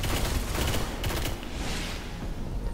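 A single-firing weapon shooting in a video game, heard as a few sharp shots over a dense, continuous noisy din, with no talking.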